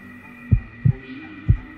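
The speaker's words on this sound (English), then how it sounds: "Let me check your heartbeat with my snazzy trunk." In a children's cartoon, a pretend elephant doctor checks a heartbeat with his trunk: three soft, deep thumps spaced unevenly over a low steady hum.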